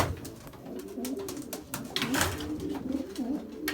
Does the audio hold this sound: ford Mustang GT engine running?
no